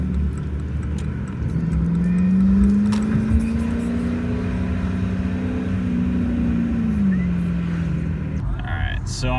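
A Dodge Charger R/T with a new air intake drives along and comes to a stop, its engine droning low and steady from inside the cabin, the pitch rising slightly then falling as it slows.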